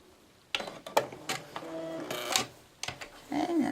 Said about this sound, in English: I can just simply hit the button and it's already sewing it on